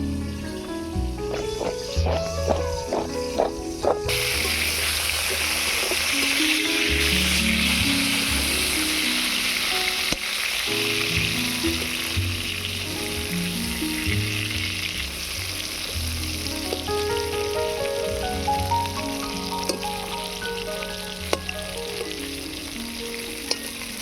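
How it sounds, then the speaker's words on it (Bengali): Pointed gourd (potol) slices frying in hot oil, a loud, steady sizzle that runs throughout, close by, with occasional stirring and brief clatter in the pan. "পটল ভাজা হয়ে গিয়েছে, এবারে তুলে নেব"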